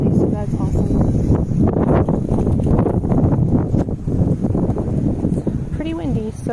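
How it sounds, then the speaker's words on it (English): Wind buffets a microphone in a home garden, a steady low rumbling roar that fills the whole stretch, with a voice briefly heard near the end. "Pretty windy"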